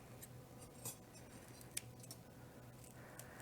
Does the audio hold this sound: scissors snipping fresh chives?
yes